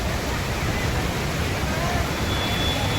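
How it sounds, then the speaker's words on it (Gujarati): Heavy rainwater pouring strongly through the Damodar Kund in Gujarat, a dense, unbroken roar of rushing water, loud and steady for the whole stretch with no other distinct sounds. "ભયંકર પાણી જાય છે મિત્રો."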